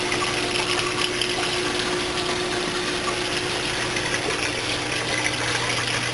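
Water running steadily through a hang-on-back overflow on a 155-gallon aquarium, a constant broadband rush with a low hum underneath, close and continuous with no talking.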